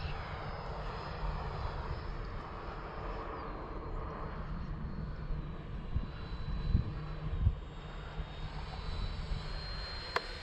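A Freewing L-39 RC model jet in Russian camouflage flies overhead, its electric ducted-fan whine a steady, moderately distant roar swelling slightly toward the middle, with some wind buffeting and no talk.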